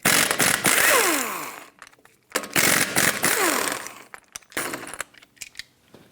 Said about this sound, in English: I'm going to take off my wheel with a 19mm socket, take off all 5 of your lug nuts.